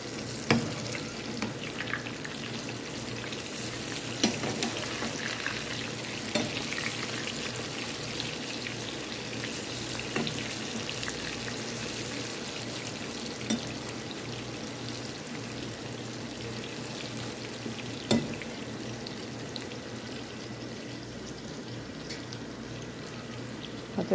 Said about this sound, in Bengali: এই যে বেগুন ভাজা হয়ে গেছে